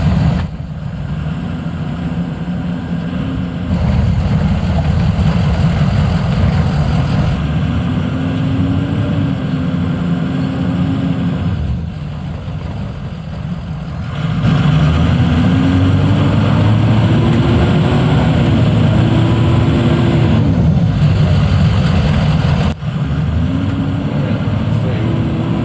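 A church van's engine labours uphill along a gravel road, a steady low drone that swells and eases with throttle changes, carrying on throughout at close range.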